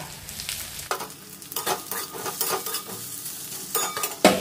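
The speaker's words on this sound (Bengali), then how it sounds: "আলু আর পেঁয়াজ খুব ভালো করে একবার ভেজে নেব।" Potato, onion and grated ginger frying in a pan, a steady close sizzle broken by frequent scraping stirs of a spatula and a sharper clack at the end.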